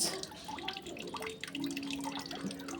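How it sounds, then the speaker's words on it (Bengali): Water pouring steadily from a timed public tap into a utensil, a continuous splashing wash with some dripping, heard close and fairly quiet, with no talk. "টাইম কলে জলও চলে এসছে"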